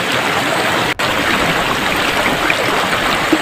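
A creek near a wooded spot flows steadily in a continuous broadband rush, close and fairly loud, with a brief dropout about a second in and no voices.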